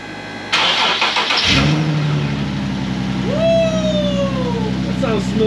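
A Nissan 370Z with a newly installed flex-fuel kit cranks briefly and then fires up, settling into a loud, close, smooth idle with a small rev. A voice speaks just before it starts.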